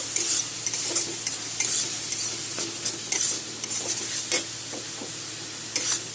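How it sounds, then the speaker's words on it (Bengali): Spice paste for Bengali doi bhindi sautés in a pan with a splash of water, a constant close sizzle punctuated by frequent scraping stirs of a spatula, no one talking. "মশলাটা এখন একসাথে সব কষিয়ে নেব।"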